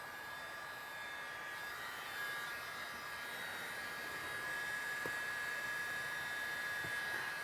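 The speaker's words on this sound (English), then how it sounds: "So gently warm it up with a heat gun, very slowly." A heat gun runs continuously at a steady, moderate level with a constant whirring hum, gently warming the glued fabric of an inflatable boat during a puncture repair.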